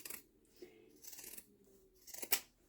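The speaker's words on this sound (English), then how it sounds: "Now I'm going to take my pinking shears" Pinking shears snip through fabric while a pie plate cozy is trimmed: a few quiet, separate cutting crunches spread over a couple of seconds, with a sharper click near the end.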